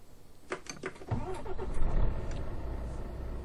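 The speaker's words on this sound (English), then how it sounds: "as I'm revving the engine, the wheel is vibrating in time with the revs" A heavy truck engine in Euro Truck Simulator 2 cranks with a few quick clicks, then catches and rumbles low, rising into a revving drone that holds steady close by.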